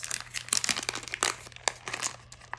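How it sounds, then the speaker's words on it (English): Crinkly plastic packaging being handled and torn open during a Halloween goods unboxing, with dense irregular rustles and crackles that come in short bursts, close and moderately loud, with no talking. "I tried to cut open these packages so there wouldn't be quite so much crinkling going on during the video"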